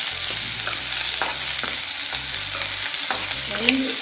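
Onions sautéing in a pan for Nagercoil-style ulli puli pachadi, an even sizzle broken by repeated scraping strokes of a spoon, near and unaccompanied by speech.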